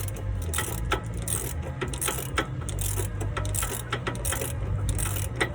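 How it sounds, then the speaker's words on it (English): An open-end wrench tightens a 17 mm bolt on a 2013 Chevy Tahoe leveling kit, with repeated light metallic clicks and scrapes in a loose rhythm, close by. "And just put a open end wrench on top or the boxed end of it, whichever way you want to do it."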